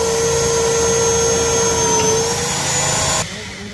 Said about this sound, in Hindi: ये चल रहे ड्रिल नट के लिए नट कसा जाएगा यहाँ पे